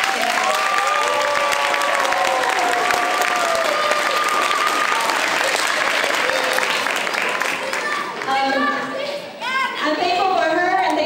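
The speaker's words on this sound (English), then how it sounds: "one more round of applause" Audience applause at an elementary school spring chorus concert, a dense sustained clapping crowd with faint voices mixed in, thinning near the end as a few distinct cheers or calls break through.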